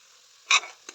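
Spices frying in a pan for a jackfruit curry, with a short burst of sizzling and stirring midway followed by a couple of softer scrapes, close and fairly quiet.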